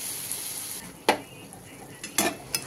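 Brinjal vegetable curry frying in a pan, with a few distinct stirring scrapes and clinks over a soft continuous sizzle, spaced irregularly through the short stretch.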